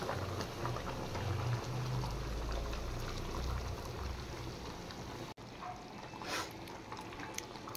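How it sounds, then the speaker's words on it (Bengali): Hot water poured into a pot of chicken makes a steady rushing, bubbling hiss that runs for several seconds before cutting off, leaving faint kitchen sizzles and clinks. "এবার আমি গরম জল দিয়ে দিচ্ছি।"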